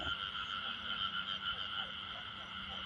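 Frogs croak in a rainy-night field, a steady chorus of high, trilling calls that carries on without pause at moderate distance, fairly quiet overall.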